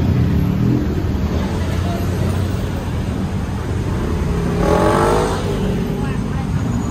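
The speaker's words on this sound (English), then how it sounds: "It's Bangkok traffic." Rush-hour street traffic in Bangkok beside a temple and a large mall, with scooters about; a dense, continuous roar of engines up close, with one vehicle sweeping loudly past midway through.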